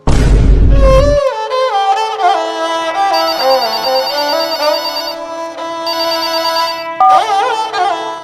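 A phone ringtone plays a bright electronic melody, loud and close, starting after a brief burst of noise and repeating its tune.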